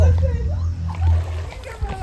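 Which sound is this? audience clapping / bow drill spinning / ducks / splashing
splashing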